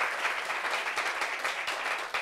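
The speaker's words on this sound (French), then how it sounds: "On applaudit pour lui." An audience at a gathering applauding, a steady wash of many hands clapping, moderately distant and continuous for a couple of seconds.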